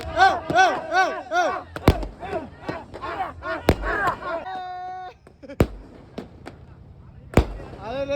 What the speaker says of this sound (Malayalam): അതായത് മത്താപ്പൊക്കെ വിടുന്നത്, അതിൻ്റെയൊക്കെ ഒരു ചെറിയൊരു ക്ലിപ്പ് നമുക്ക് കാണാം.